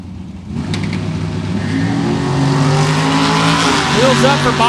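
Drag race cars launch side by side, one a Malibu, with loud engines revving and climbing in pitch as they pull away, a steady roaring wall of sound and a brief tire chirp near the end, with an announcer talking over it.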